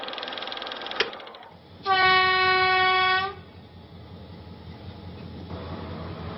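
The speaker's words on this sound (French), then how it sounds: "Il est 6 heures, les trains sont bien là." At Colombo railway station in Sri Lanka, an early-morning train sounds a loud sustained horn blast lasting over a second, following a sharp clank, with rumbling station and rail noise throughout.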